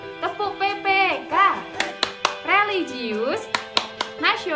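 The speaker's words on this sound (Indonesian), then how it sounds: "marilah kita tepuk PPK terlebih dahulu ya teman-teman" A teacher's voice chants the rhythmic 'tepuk PPK' classroom routine, punctuated by sharp, evenly spaced hand claps between the sung phrases.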